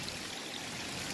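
Steady broadband rush of water pouring over rocks in a backyard garden waterfall, a continuous close hiss and trickle with no voices.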